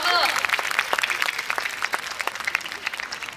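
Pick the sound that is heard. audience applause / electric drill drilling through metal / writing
audience applause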